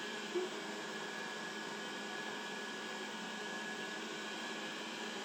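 Dreame D10s Pro Plus robot vacuum running with its rotating brush, a steady airy whir that holds at an even, fairly quiet level with no talk.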